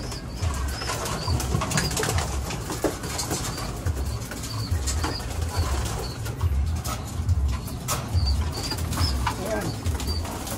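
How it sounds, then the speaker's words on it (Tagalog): Pigeons flutter and flap their wings close by, with soft cooing underneath and a continuous low rustle of birds moving about. "Palipad muna kayo, mga ibon."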